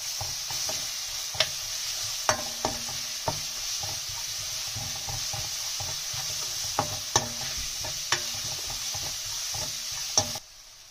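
Spices and coriander powder roast slowly in a pan, giving a steady soft sizzle broken by sharp taps and scrapes of a spoon against the metal, then cutting off near the end.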